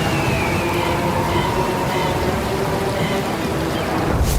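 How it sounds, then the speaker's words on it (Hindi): Heavy rain pours down steadily over a village during an animated story, a dense, unbroken wash of drops that stays loud and close from start to finish, with no voices. "बारिश अपने चरम पर थी"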